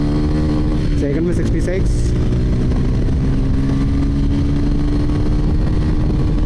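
A TVS Ronin motorcycle pulls hard through its gears during a speed test, with a loud, continuous engine drone and wind rush throughout while someone talks over it.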